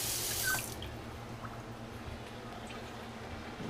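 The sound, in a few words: washing a cutting board under running tap water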